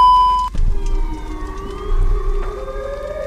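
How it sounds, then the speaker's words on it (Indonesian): A Chicago tornado warning siren wails continuously, its pitch slowly rising and swelling, loud and sustained after a sharp tone cuts off at the start. "Suara yang paling populer adalah suara tornado di Chicago."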